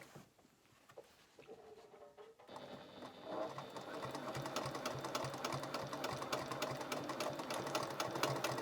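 Sewing machine running a seam to hold a fabric bag lining in place; a quiet, fiddly start, then a steady, fast, close mechanical stitching rattle that continues evenly to the end.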